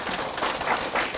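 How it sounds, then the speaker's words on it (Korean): A seminar audience at an academic conference claps for the moderator, a short, moderately loud burst of crowd applause with a few distinct louder hand claps rising out of it. "여러분 박수 한번 크게 쳐주시기 바랍니다."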